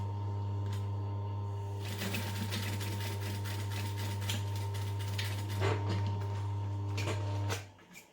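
A rotary sewing machine runs steadily throughout, a loud continuous motor hum with faint mechanical ticking and clatter of the needle, cutting off near the end.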